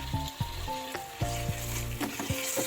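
Chopped ginger sizzles and crackles in hot oil for a fried rice dish, a close, continuous fry broken by several sharp clinks and scrapes of stirring; no one speaks.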